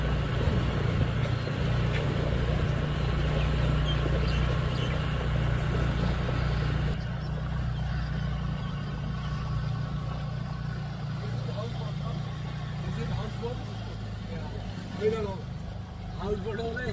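A house boat engine on the Alleppey backwaters in Kerala drones low and steady throughout, with people talking over it close by.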